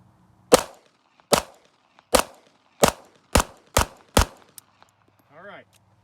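Seven sharp pistol shots from a Beretta 30X fired at a steady, roughly even pace, loud and close with brief decays, followed by a short murmured voice after the last shot.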